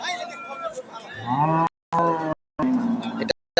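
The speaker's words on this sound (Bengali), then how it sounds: "এটাও বেশ সুন্দর দুধের গরু" A dairy cow at a rural cattle market lets out a loud, close, drawn-out moo that rises in pitch and breaks into short segments.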